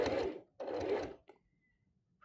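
A sewing machine back stitching a gathered seam runs in two short close bursts of whirring stitching, then stops, leaving near silence with a faint click at the end.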